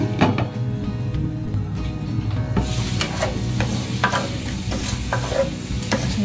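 Shrimp and mushrooms sizzle in a pan and are tossed and stirred, making scraping clatters and bursts of frying hiss. The sound stays close, with no voices.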